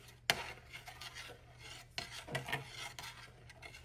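A spoon stirs milk into masala chai, making scraping, rasping strokes against the vessel, with a sharp clink at the start and several rubbing passes after it.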